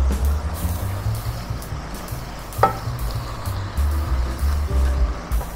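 Fresh button mushrooms fry with chicken in a hot pan, a steady close sizzle with stirring scrapes and a single sharp utensil clink midway.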